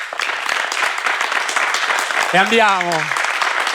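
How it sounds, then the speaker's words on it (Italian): Studio audience applause opens an episode of the Italian show Tintoria, a Sanremo special, with steady, lively clapping throughout as a voice speaks briefly over it. "Applauso."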